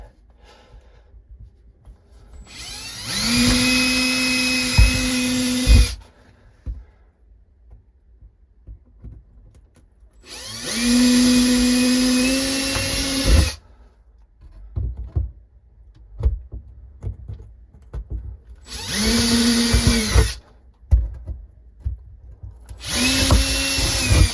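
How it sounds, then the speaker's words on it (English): A power drill bores holes in a bathroom ceiling for a new bathroom fan, running in four loud, sustained whirring bursts of a few seconds each, separated by quieter pauses with faint handling noise. "So now I'm going to drill a hole in each of the 4 corners"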